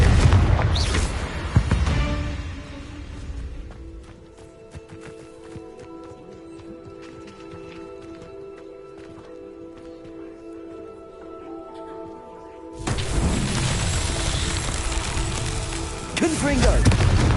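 Confringo explosion spells in Hogwarts Legacy, a heavy booming blast at the start, a quieter stretch of ambient game sound, then another loud rumbling burst near the end, with a voice casting spells.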